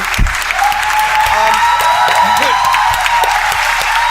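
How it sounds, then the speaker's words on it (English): A crowd at a televised talent show claps steadily and loudly throughout, a dense continuous wash of applause with a few scattered voices. "So guys, can we please have a round of applause for Sophie?"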